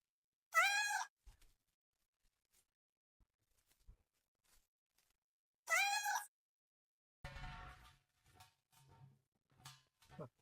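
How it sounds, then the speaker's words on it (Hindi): A cat lets out two loud, drawn-out meows a few seconds apart, followed by scattered faint knocks and a burst of low rumbling clatter near the end. "ओ बिल्ली"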